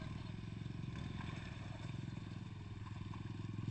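Motorcycle riding through a shallow river in San Andres, Tanay, with a steady low engine drone and a rapid putter throughout, alongside light clattering and scraping, fairly close and quiet.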